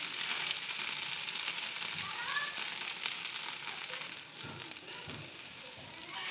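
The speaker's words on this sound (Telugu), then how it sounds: "ఇంకోవైపు కూడా ఎర్రగా కాలనిద్దాం" Food frying in a pan as it browns on its second side, a steady broadband sizzle that holds evenly throughout, close and fairly loud, with no talking.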